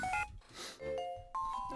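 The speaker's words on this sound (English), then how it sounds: "The X-Transceiver is ringing." Electronic ringing of the X-Transceiver in the video game Pokémon White, a short run of bright tonal chime phrases in bursts.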